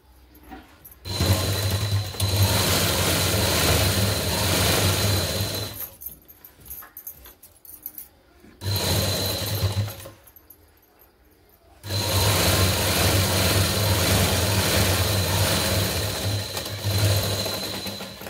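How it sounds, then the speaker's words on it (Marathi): An electric sewing machine stitches a blouse seam in three loud, close, steady runs of rapid whirring, separated by brief quiet pauses where the fabric is adjusted. "आता ही टीप मारून दाखवते आणि हे बरोबर असं पकडायचंय."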